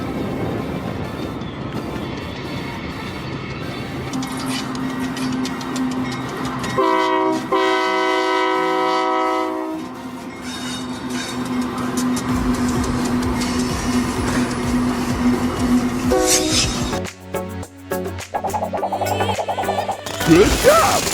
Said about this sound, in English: Oil trains are large capacity vehicles used to transport oil or liquefied gases all over the